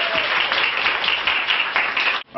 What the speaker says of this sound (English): A huge round of applause for our two candidates running for the Beat Up Club.